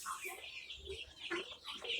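Silkie chicken chicks, young birds offered for sale at a farm, peep and cheep in a busy cluster, with high chirps overlapping steadily at close range.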